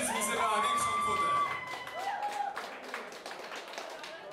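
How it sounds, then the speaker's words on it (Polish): Wedding guests applauding during the oczepiny games at a Polish wedding reception, with a burst of clapping and crowd noise rising after a few whistle-like tones and then carrying on steadily to the end. "Szanowni Państwo, wielkie brawa!"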